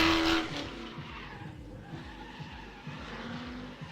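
A drift car at a drift pit squeals its tires at night, a long sliding screech with a revving engine behind it, loud at first and then continuing somewhat farther off.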